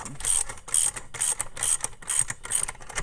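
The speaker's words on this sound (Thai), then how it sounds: "ขันเข้าไป เลย ปัจแจ หัวนี่ เป็นเบอร์ 12 นะครับ" A socket wrench with a 12 mm socket ratchets on a bolt as an aftermarket seat-conversion kit is fitted into an Isuzu D-Max, giving six close, rhythmic bursts of rapid clicking at a steady pace.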